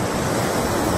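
Ocean waves washing a Channel Islands shore near Los Angeles, a steady broad rush of surf with wind noise, loud and continuous for a brief moment.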